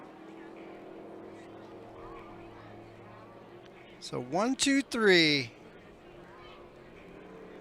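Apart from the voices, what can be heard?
racing boat passing during Thanksgiving regatta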